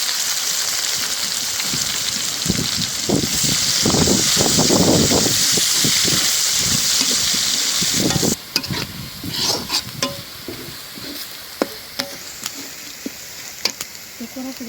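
Onion dropped into hot oil with garlic in a pan, sizzling and frying loudly, settling into steady crackle with scattered pops and stirring clinks.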